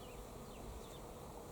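Many bees hum steadily around the flowers of a carob tree, a soft, continuous outdoor drone with no voices.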